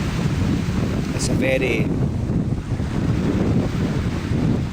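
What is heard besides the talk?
water crashing on rocks at sunset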